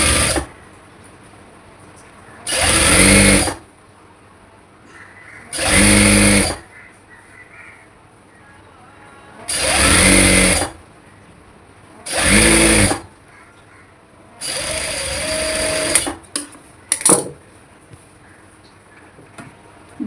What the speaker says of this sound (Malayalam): കറക്റ്റായിട്ട് നമുക്ക് സ്റ്റിച്ച് ചെയ്ത് കൊടുക്കാം.